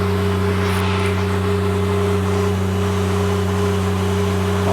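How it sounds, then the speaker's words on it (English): The engine of a Niftylift HR21DE lift with an intermittent drive fault runs at high idle, a loud, steady, unchanging hum with strong tonal drone and no other sounds. "Start the engine."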